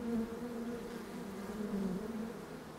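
A brief, steady drone of bees buzzing, fairly quiet and constant, with no voices over it.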